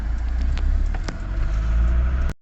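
A car engine runs steadily with a low rumble, passing from a drive to a bank, before the sound cuts off abruptly near the end.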